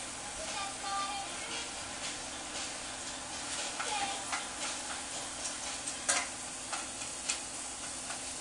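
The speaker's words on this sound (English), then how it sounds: "we start out by sauteing both the onions and the garlic" Onions and garlic sautéing in a pan, giving a continuous close sizzle with scattered light ticks and scrapes of stirring.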